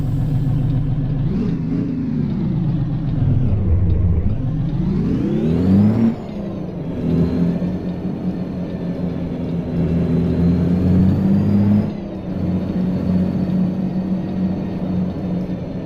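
A big rig truck in American Truck Simulator pulls away, its diesel engine revving up through several gear changes with rising and falling pitch, a steady droning rumble and whine alone with no talk.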